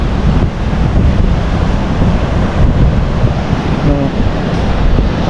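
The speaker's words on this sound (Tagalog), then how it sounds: "Kasi nga malaki na naman yung alon, sumasama ang panahon." Steady roar of wind buffeting the microphone over crashing ocean surf, loud and continuous throughout with no pauses.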